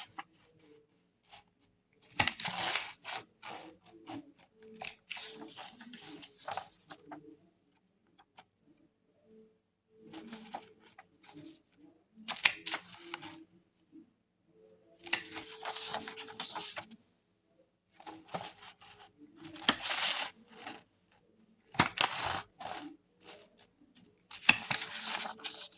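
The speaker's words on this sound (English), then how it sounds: "Just take the decorative stamp, punch it right around on the edges." A decorative paper punch works around the edges of a book page, giving a series of faint, close crunching clicks and rustles in irregular bursts separated by quiet gaps.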